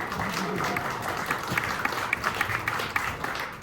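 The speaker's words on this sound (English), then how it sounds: "yes, you can clap for that" Audience applause at a retirement celebration: a loud, steady wash of many hands clapping that thins toward sharper scattered claps near the end, with a voice faintly audible underneath.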